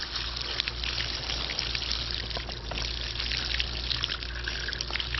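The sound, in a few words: water rinsing out a pool cleaner filter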